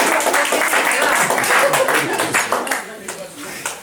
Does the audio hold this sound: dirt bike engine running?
no